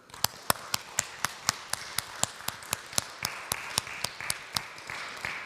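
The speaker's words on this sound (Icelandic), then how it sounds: "en ef ekki gefinni Katrínu Valdísi gott klapp" Church congregation clapping at a Sunday service, a steady rhythmic applause of roughly two claps per second, fairly soft and slightly distant, with no talking over it.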